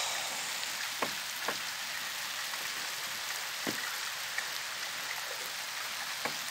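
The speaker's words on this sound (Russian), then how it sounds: "у нас дождик пошел" Steady patter of rain on a surface, fairly quiet and even, with a few louder drops landing now and then.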